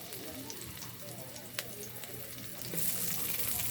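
Garlic and onion frying in a pan for bami give a steady, close sizzle, with a brief clatter midway and the hiss growing brighter toward the end.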